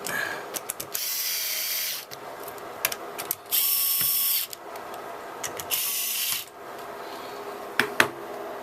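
A power driver screws a part back into an HP ProLiant DL360 G7 server in three short, close whirring bursts, with faint clicks and no talking.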